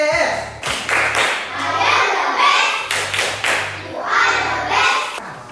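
Children in an Indonesian primary classroom perform a patterned group clap, loud rhythmic bursts of hand claps and thumps separated by short pauses, with young voices chanting along in time.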